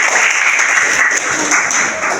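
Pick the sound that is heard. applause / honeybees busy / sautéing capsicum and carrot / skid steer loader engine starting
applause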